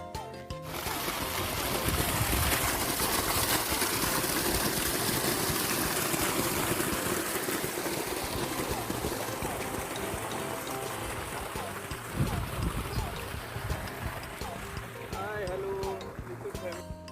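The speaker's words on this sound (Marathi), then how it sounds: "बघा किती खळखळ पाणी चाललं आहे आमच्या भाजीला" Irrigation water gushes and gurgles through channels in a village fenugreek (methi) field, a loud, constant splashing rush that holds throughout, with brief sharper surges.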